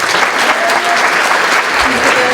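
Dense, steady audience applause fills a school district's welcome-back faculty convocation, with many hands clapping at once in a loud, continuous wash that holds for the whole moment.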